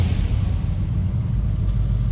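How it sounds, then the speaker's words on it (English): A 1967 Chevrolet C10 pickup with a 283 V8 idles after a cold start, making a steady low rumble without revving, close and even for a couple of seconds. "Fired up, let you hear it run."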